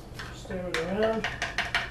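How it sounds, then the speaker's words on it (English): Utensil stirring just under a gallon of water with baking soda dissolved in it, a few close clinks and scrapes against the container over a short stretch, with faint voice-like tones partway through. "Stir it around."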